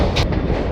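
Rolling rumble inside a sleeper coach of the Patna to Puri special train as it passes Rajendra Nagar Terminal, a brief burst of loud, close wheel noise with a short rattle and no voices.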